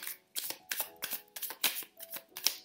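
Oracle cards are shuffled by hand for a reading, giving a run of quick riffling bursts in an irregular rhythm, close up and fairly soft, with no voices.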